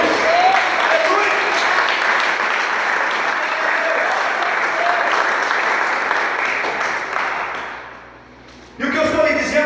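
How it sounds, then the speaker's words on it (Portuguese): A church congregation applauds loudly during an evening service, sustained dense clapping that fades after about eight seconds before a voice speaks over the sound system. "Você pode aplaudir esse Deus em nome de Jesus?"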